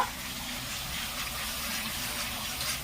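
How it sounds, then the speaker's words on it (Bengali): Water poured into a pan of cooked-down spices for a rohu fish curry, making a steady, close gushing splash that fills the whole moment without any talk. "মশলাটা আমার কষানো হয়ে গেছে এবার জল দিয়ে দিব"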